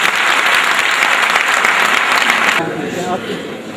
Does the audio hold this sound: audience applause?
yes